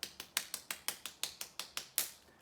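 Children at a primary school celebration assembly doing a fairy clap: a steady, quick series of about a dozen light, crisp claps at an even rhythm, clear and close with no talking.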